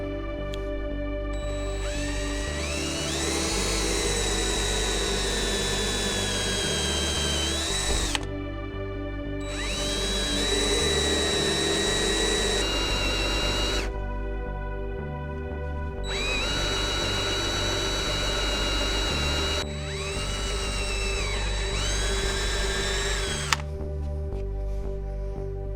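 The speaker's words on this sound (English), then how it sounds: "let's drill the hole." Power drill boring a hole in walnut wood for a dovetail box, running in three long sustained bursts separated by short pauses, loud and close with a steady whine, no talking.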